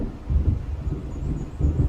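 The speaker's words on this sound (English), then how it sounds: "It seems there's a storm coming." Thunder from an approaching storm in the Alan Wake video game, a low rolling rumble with swelling surges and wind-like rustle, loud and continuous without speech.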